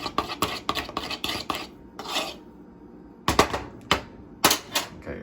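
A spoon stirring gnat trap liquid mixed with dishwashing soap in a container, heard as quick, bright clinks in rapid bursts with a quiet pause between them, close and fairly soft.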